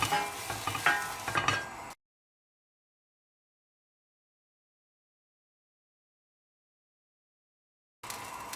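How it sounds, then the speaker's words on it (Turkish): Lamb meat searing in an oiled hot pan gives a short burst of crackling sizzle, then silence, then the sizzling returns briefly at the end. "içine eti atacağız ve böylece etin dışı mühürlenecek"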